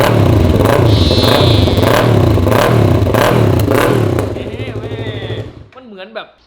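Yamaha R3 motorcycle fitted with a custom exhaust, revving loudly in repeated surging bursts close by, then dropping off to a quieter idle and a few short blips at the end.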